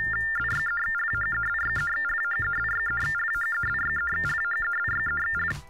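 Modem-style data tones carry a text file over a payphone line, a rapid chirping pattern of warbling beeps and pulsed bursts repeating steadily before cutting off at the end.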